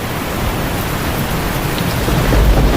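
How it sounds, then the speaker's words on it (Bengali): Heavy evening rain pouring down steadily, a loud dense hiss with low rumbling underneath, continuous and close. "কিছুদিন পর এক সন্ধ্যায় প্রচণ্ড বৃষ্টি শুরু হলো"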